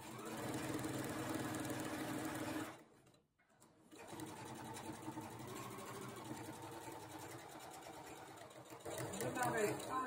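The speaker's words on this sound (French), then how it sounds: "Endroit contre endroit, je vais coudre les côtés." A sewing machine hums and rattles in quick, steady runs while stitching the sides of fabric pieces together, right sides facing, for a fabric storage triangle, pausing briefly before resuming.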